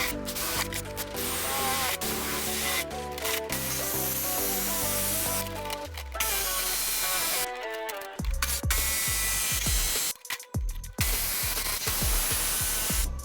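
Cutting a square hole with a power tool for a switch panel on a jon boat being converted to a bass boat, a series of harsh grinding and rasping bursts with short pauses between passes, loud and close.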